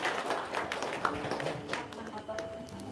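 A few people clap their hands in scattered, uneven bursts, fairly close and moderately loud, over a murmur of voices and room noise, with a steady faint tone creeping in near the end.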